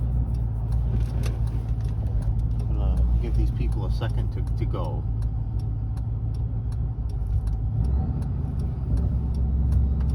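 A supercharged Ford Crown Victoria with a five-speed manual idles on a straight road, a steady low engine rumble with faint ticking running throughout while someone talks over it from inside the car.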